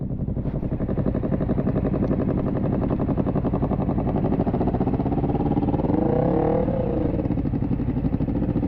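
A motorcycle engine in first gear runs loud and close, a rough, throbbing rumble that rises and falls as it revs, with no voices.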